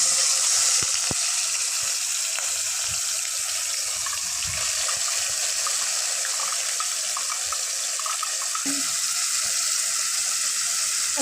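Small shrimp fry in hot oil in a wok, giving a steady, loud sizzling hiss that holds evenly throughout with faint crackles and pops and no voices.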